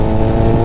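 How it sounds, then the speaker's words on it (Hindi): A Kawasaki ZX10R sport bike with an aftermarket exhaust rumbles loud and close, its engine note steady and throaty with no voices heard. "एरो का एग्जॉस्ट जब चलाऊंगा बाइक, आप लोग बताना आप लोगों को कितना फ़र्क लग रहा है।"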